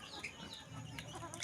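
Chickens clucking softly nearby on a farm plot, a faint continuous low murmur of clucks with brief scratching and background noise.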